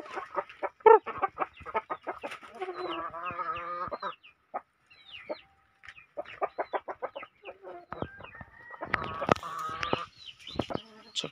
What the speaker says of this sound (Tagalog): Yan mga inahin natin.